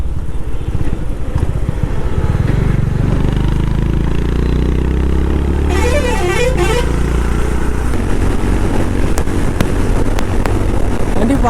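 A Honda H'ness CB 350 motorcycle rides at high speed on the road, its engine droning loudly and steadily up close. Rushing wind is heard, and a horn sounds briefly partway through.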